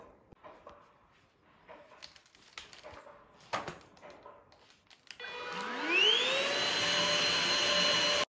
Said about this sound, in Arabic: غادي دوزت لاسبيراتور هنايا